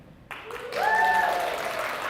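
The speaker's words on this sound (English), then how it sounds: "cheer really loudly just out of respect" A breakfast fundraiser crowd breaks into applause and cheering, a dense wash of clapping with a few whoops rising and holding steady, fairly near and loud.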